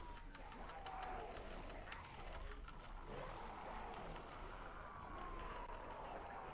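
Faint police sirens wail and sweep far off in Project Zomboid, blending into a constant roaring ambient wash, with no voices.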